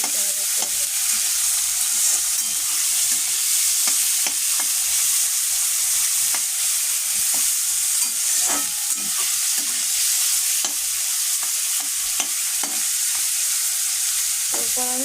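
Carrots and beans stir-fried in hot oil for vermicelli upma give a steady, loud sizzle, broken by repeated scraping and tapping strokes of a spatula against the pan.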